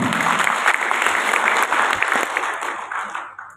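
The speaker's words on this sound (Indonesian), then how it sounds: "Aplaus buat yang minum." An audience claps together in a dense, loud burst of applause that fades away toward the end, with no voices over it.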